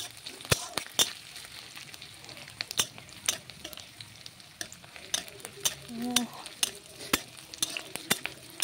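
A fish gravy base fries gently over a very low flame, a soft sizzle under frequent sharp clinks and scrapes of a spatula against the pan, with a brief murmur of voice midway.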